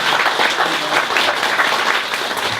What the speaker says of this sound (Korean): 이제 네. 이야기 나눌 텐데 박수로 환영해 주시죠